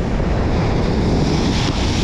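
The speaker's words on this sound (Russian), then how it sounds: "Ветер усиливается, и накат волн становится больше." Storm surf pounds the Crimean shore as strengthening wind roars across the microphone, a loud, continuous churning wash with no pauses or voices.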